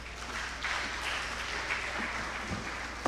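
An audience at an African technical summit on geology gives moderate, even applause over a faint low hum, steady for a few seconds with a brief bump at the very end.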